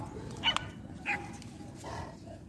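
A pair of beagles on Whitley Bay Beach give a few short, distant barks against steady wind and surf, with quiet gaps between the yips.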